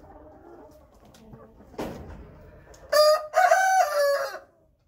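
Chickens cluck quietly nearby, then a rooster crows loudly and close in a long, drawn-out call.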